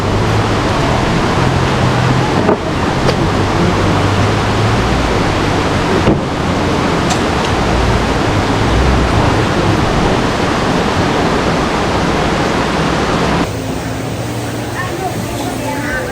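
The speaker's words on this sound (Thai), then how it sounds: "ฟังเสียง น้ำตกเย็นๆได้ทุกคน" A waterfall at Mae Kampong, Chiang Mai, Thailand, roars in a loud, constant broadband rush of falling water, with a brief drop in intensity near the end.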